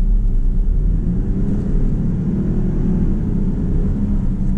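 Road noise inside a 2019 Ford F-150 XLT Sport cruising on the interstate: a steady, low, muffled rumble of tires and wind, fairly quiet and unbroken.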